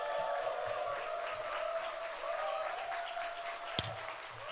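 A church congregation applauds in welcome of a visiting missionary during a Sunday service, giving a steady, moderately distant sheet of clapping that holds evenly for several seconds with one brief sharp knock near the end.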